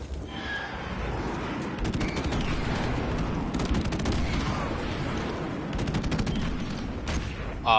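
Combat din from Call of Duty: Modern Warfare Remastered, where rapid bursts of gunfire and booming blasts from an airstrike hit in quick succession at a fairly steady, moderate loudness, with no talk.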